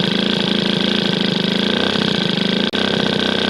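A customised Motobécane 103 SP moped idles steadily, its small two-stroke engine putting out a close, loud, even buzz with a brief dropout near the end.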